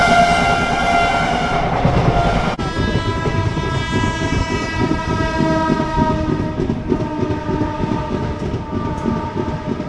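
The 18409 Sri Jagannath Express from Kolkata to Puri pulls out of platform 1. A loud, sustained horn blast sounds at the start, then the rolling rumble and clatter of the moving train continue without speech.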